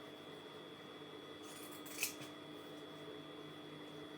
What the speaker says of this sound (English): Those pinking shears are not for thick fabric.